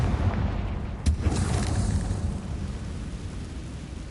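A blasting-spell explosion in the video game Hogwarts Legacy lands as one sharp boom, with debris and a rumble fading over several seconds and no voices.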